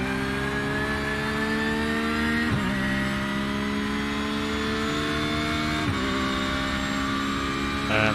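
An LMP prototype race car engine in the iRacing simulator, a loud sustained high-revving drone with two brief dips in pitch at gear shifts, steady throughout without talk.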